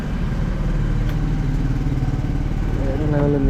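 A motorcycle engine runs steadily nearby with a low, throbbing rumble and some mechanical clatter, while a voice talks faintly over it.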